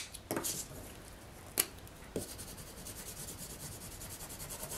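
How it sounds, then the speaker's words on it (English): Gelatos crayons rubbed onto cardstock, a soft close scraping texture with a few sharper scuffs and strokes, no talking. "I'm just going to rub them onto my cardstock."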